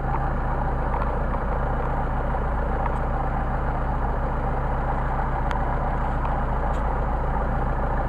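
A Mercedes 190SL engine on Solex carburetors idles steadily, a low, even rumble held close and loud with no talk over it.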